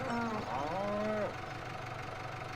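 Cattle in a farming video game give one drawn-out, wavering moo lasting just over a second, close and clear, followed by a low steady background hum with no talk.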